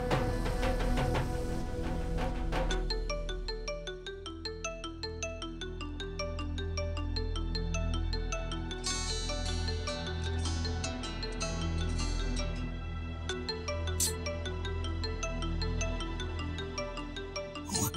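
Mobile phone ringing on an outgoing call in a Hindi TV drama: a melodic electronic ringtone repeating steadily for the full length, fairly faint, with no one speaking.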